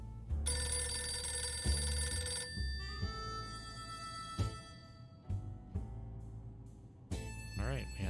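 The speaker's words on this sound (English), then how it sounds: "Alright, we had a phone ringing" A telephone rings in the video game 60 Seconds! Reatomized, its bright tonal bursts repeating over music and game sounds, with a voice talking through parts of it.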